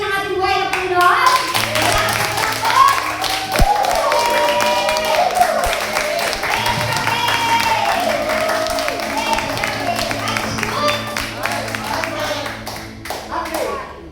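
A congregation at a charismatic prayer meeting claps hands steadily in praise, with dense, sustained clapping running for many seconds while voices and children's chatter mix underneath.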